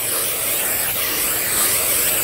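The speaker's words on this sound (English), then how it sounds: "So I'm going to spray" Nonstick cooking spray hisses onto the bottom of a baking pan, one continuous, close, bright aerosol spray lasting about two seconds before stopping abruptly.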